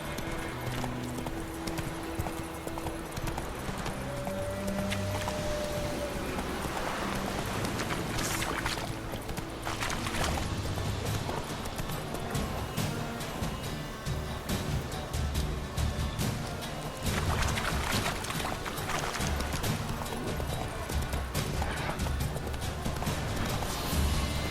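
Roach, the horse in The Witcher 3: Wild Hunt, clip-clops along in a steady, fairly loud hoofbeat rhythm over a bed of ambient game sound and faint whooshes, carrying on for the whole stretch.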